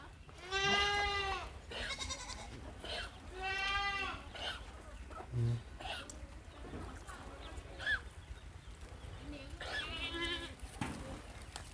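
Goats bleat repeatedly from a pen beside a rural Thai house, several loud nearby calls spaced out between other farm sounds, with someone talking through much of it.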